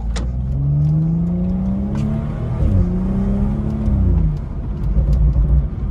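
A tuned BMW 435i with a stage 2 tune, over 400 hp, accelerates hard in manual mode, its loud engine note climbing steadily through the revs with a brief dip between gears, close up and with no talking.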